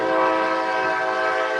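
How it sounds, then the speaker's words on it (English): A passing train sounds a sustained, loud horn blast, a steady chord-like tone held without a break. "there's the train."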